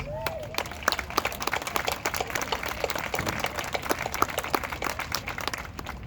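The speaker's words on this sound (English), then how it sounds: "join me as Daniel Allen Dongon stands and give him a round of applause" A graduation audience applauds a student as he stands, steady dense clapping from many hands filling the hall for several seconds.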